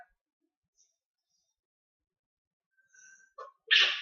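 A single sharp sneeze near the end, preceded by a short breathy intake, in an otherwise quiet room.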